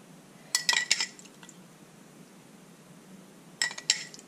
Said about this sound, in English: And then I'm going to take this dressing that I made earlier and just spoon it over the top